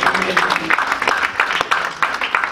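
A church gathering claps in welcome, the applause coming as a steady run of quick, fairly close claps that continue throughout, with a voice talking over them.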